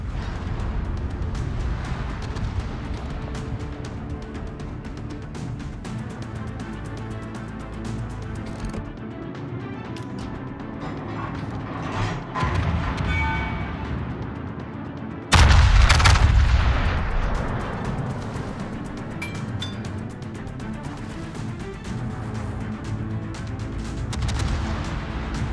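Heavy naval guns of the battleship Yamato firing in a naval combat video game, with sustained rumbling gunfire under a dense game soundtrack and one sharp, loud blast partway through.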